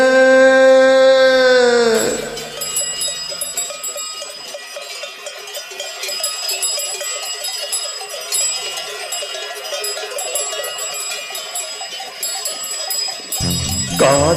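Livestock neck bells clank and jingle continuously and fairly close, a busy metallic ringing that follows a sustained tonal passage at the start.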